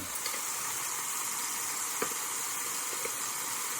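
Steady broadband sizzling hiss of a venison roast frying in hot oil, continuous and fairly close, with a few faint pops and crackles.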